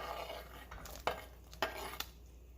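Broccoli and sliced carrots go into a cooking pot for wonton soup, heard as a few soft clattering knocks against the pot over a faint kitchen background.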